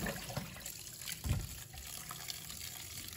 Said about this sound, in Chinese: 再用清水冲洗几遍，把面粉完全的清洗干净。